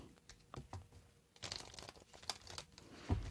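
A deck of playing cards is shuffled up close in a quiet room, giving a few soft riffling, crinkly bursts with short pauses between them and a sharper snap of cards near the end.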